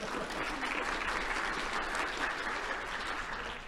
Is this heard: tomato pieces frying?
no